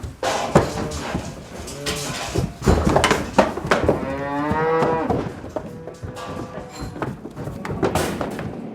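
Cattle being moved by trailer to pasture on a farm converting to organic give repeated loud, close moos, several overlapping calls with thumps and knocks between them.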